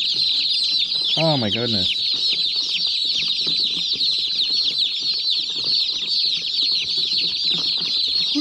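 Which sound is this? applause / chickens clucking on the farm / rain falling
chickens clucking on the farm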